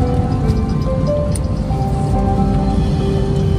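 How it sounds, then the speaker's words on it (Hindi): Heavy rain in Mumbai falling steadily as a dense, continuous patter and hiss with scattered drips, close and fairly loud, alone without talk. "बहुत तेज़ बारिश हो रही है"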